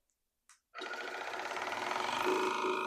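After a couple of faint clicks, a water flosser starts up with a steady, close buzzing hum that runs continuously without breaks.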